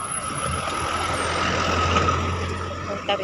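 Heavy buses idling and rumbling at a bus station in Taiwan, with a steady low engine drone, a faint high whine, and a brief air-brake hiss near the end, all fairly close with no talking.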